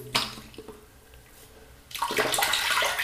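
Water runs steadily from a tap as a wet shaver rinses off after a shave, a quiet start breaking into a louder broadband splashing rush for the last second or so.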